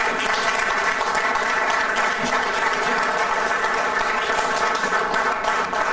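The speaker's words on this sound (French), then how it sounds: "Ne m'applaudissez pas, applaudissez ceux qui ne sont pas rentrés." An audience applauds after a speech, a dense, steady wash of clapping from many hands that holds at an even level for the full six seconds with no voices on top.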